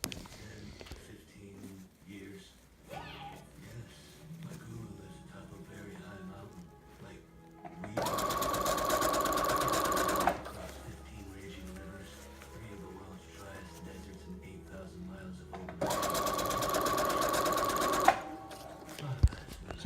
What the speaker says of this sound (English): then I can sew pretty good